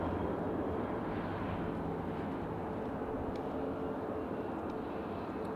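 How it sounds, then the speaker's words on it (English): An IndiGo Boeing 787-9 Dreamliner bound for Delhi gives off a steady, broad jet roar at a distance, holding an even level without breaks and with no talking. "we've got Indigo Dreamliner, it's a 7879 Dreamliner going to Delhi"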